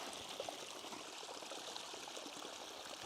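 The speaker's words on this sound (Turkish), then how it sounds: "bir maden suyu kaynağı var. Böyle bir boru sistemi yapmışlar ama tabi alttan patlamış, paslanmış." Mineral water from a natural spring pours steadily out of a burst, rusted pipe, giving a continuous close trickling gush with an even hiss and no pauses.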